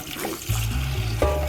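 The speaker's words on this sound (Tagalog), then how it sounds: "As usual, 3 times nili mo siyang hugasan para mawai ang pait." Tap water runs and splashes as quinoa is rinsed to take away its bitterness, a loud, close, continuous gush with a sloshing shift partway through.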